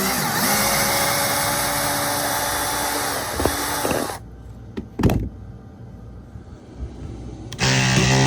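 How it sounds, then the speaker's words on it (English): Screws being backed out of the center board of a Bayliner 4788 boat with a power driver: a loud, steady whir for about four seconds, then a few sharp clanks and knocks before the whirring starts again. "I'm going to remove all of those screws"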